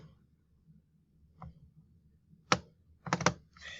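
Key presses on a computer keyboard while filling in an online problem set document, a few sparse soft taps followed by a short cluster of louder clicks, close in a quiet room.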